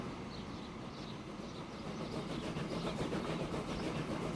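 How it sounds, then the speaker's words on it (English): Rumbling rail noise from a freight train departing in the game Transport Fever, a steady low broadband roar with faint rhythmic clatter that swells slightly over several seconds, heard alone without voices. "Away goes our freight train."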